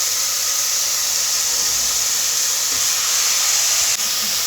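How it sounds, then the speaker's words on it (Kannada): Tomato frying in a pan for sprouted horse gram sambar, a steady loud hissing sizzle held evenly throughout, close up with no talking. "ಈಗ 1 ಟೊಮೊಟೊ ಇದಕ್ಕೆ ಫ್ರೈಗೆ ಹಾಕತ್ತಾ ಇದ್ದೀನಿ"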